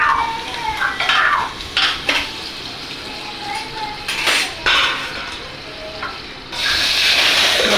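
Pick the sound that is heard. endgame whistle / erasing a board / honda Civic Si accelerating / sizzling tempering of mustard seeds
sizzling tempering of mustard seeds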